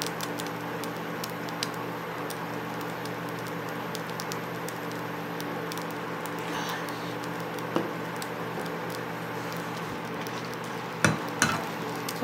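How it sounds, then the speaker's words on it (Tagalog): Breakfast food frying in a pan at home as the last of its water cooks off, a steady fine sizzle and patter throughout with a low hum beneath and a few louder crackles and clinks near the end. "prito na lang yung gagawin natin dyan."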